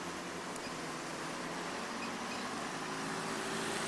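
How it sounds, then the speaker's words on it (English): Steady road traffic on a Burbank boulevard near Stough Park in 1991, a continuous broadband roar of passing cars and trucks at moderate distance, with no talking. "The traffic sounds you hear are coming from the beautiful new Stough Park"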